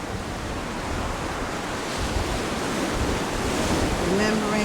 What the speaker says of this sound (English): Listen to the sound of the ocean.